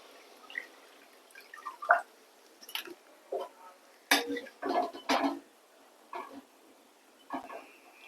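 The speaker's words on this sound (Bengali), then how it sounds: "এর মধ্যে এবার আমি দিয়ে দিচ্ছি জল" Water added to a pan of frying spiced masala for a mustard pabda fish curry, heard as short, intermittent splashes and drips, close but quiet.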